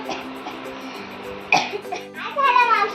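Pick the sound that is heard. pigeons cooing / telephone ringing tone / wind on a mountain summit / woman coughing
woman coughing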